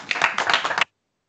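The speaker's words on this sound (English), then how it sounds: "If we can give them a warm round of applause, please." A short burst of clapping from a seminar audience, close and crisp, lasting under a second before stopping abruptly into silence.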